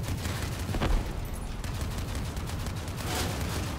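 Shotgun fire and combat noise in the vehicle battle game Crossout, with dense, continuous blasts and booming impacts, loud and chaotic throughout.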